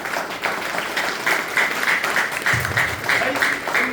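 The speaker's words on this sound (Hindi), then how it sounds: "एक बार बजाओ जोरदार तालियां" Audience applause at a network marketing seminar, a steady wash of clapping lasting throughout, fairly loud and continuous.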